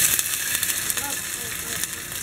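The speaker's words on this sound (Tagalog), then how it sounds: "Ipiprito ko or igigisa ko yung bawang, sibuyas." Garlic and onion fry in a pan for a dipping sauce, giving a constant bright hiss and sizzle with faint crackles throughout.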